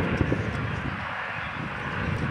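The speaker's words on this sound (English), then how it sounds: "Ken Ostavista, flying the MiG-15" A MiG-15 jet flies at an air festival, its engine a steady distant roar filling the whole stretch with no break, with faint crowd noise beneath.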